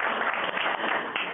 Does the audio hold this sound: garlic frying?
no